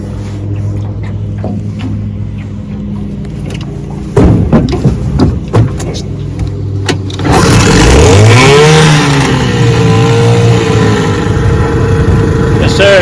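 A restored 1968 Johnson 6 HP outboard motor being started: a few pulls and clunks give way to the engine catching and running loudly up close, revving then settling into a steady buzzing idle.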